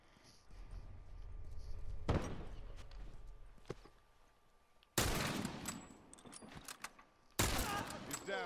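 Gunfire in The Last of Us video game: a few sharp, loud shots crack out at intervals between quieter stretches of footsteps and movement.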